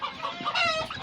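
Australorp roosters in a coop at night give a short, close burst of busy, overlapping clucking and crowing-like calls that continues for about a second with no talking.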